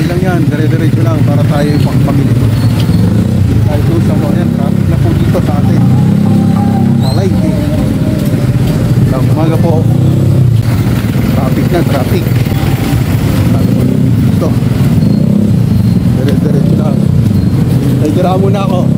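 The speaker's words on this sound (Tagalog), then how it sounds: "Traffic na po dito sa atin." Dense street traffic of cars and motorcycles rumbles steadily and loudly throughout, with engines idling and revving nearby and a voice talking over the constant drone.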